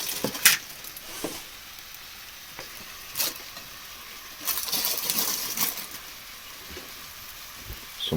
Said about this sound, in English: Going to add some bean sprouts in.